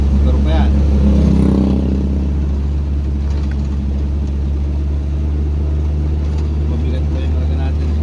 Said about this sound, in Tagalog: Lalakas ang mga motor yan, pero yung mga gapang din, motor pa yan.